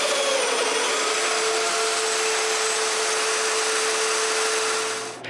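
A power tool cuts mortises in wood for a bathroom vanity, a steady high whining roar running continuously for several seconds at moderate level before it winds down at the end.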